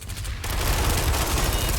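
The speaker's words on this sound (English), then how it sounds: "People are shooting each other with shotguns." Shotgun fire in the video game PlanetSide 2, a quick burst of overlapping blasts after a brief quiet opening, loud and sustained with dense crackling booms.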